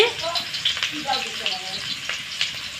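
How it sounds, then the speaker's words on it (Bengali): Nigella seeds, chopped onion and ginger sizzle in hot oil with a steady, crackling fry and small pops, while a person talks over the cooking. "তেলটা গরম হয়ে গেছে তেলে দিয়ে দেব একটু কালো জিরে দিয়ে দেব পেঁয়াজ কুচি আদা কুচি"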